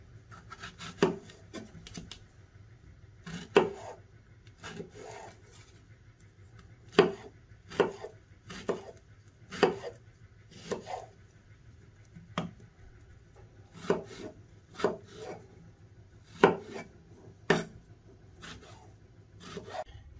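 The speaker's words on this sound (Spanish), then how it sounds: "vamos a cortar las fresas en trozos pequeños" Knife chopping fresh strawberries into small pieces on a cutting board for chia pudding, with irregular crisp taps, sometimes doubled, spread across a quiet kitchen background.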